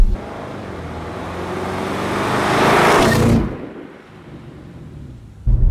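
An Audi RS6 Performance accelerates hard from a standstill with no launch control, its engine roar building loud and close for about three seconds before it cuts off abruptly and drops to a low rumble.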